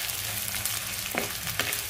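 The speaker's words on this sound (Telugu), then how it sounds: "ఈ లైట్ బ్రౌనిష్ కలర్ వచ్చేంత వరకు వేపుకోవాలండి, వేగించుకోవాలి" Onion pieces fry in hot oil in a pan for a chicken fry, giving a close, steady sizzle broken by a couple of brief scraping stir strokes.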